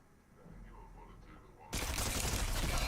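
Gunfire in the Fortnite video game erupts suddenly as a loud, dense, sustained burst of rapid shots after a quieter stretch with faint murmuring.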